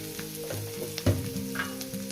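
Chopped onion with a little salt fries in a pan, a close, even sizzle broken by a soft spatula knock partway through.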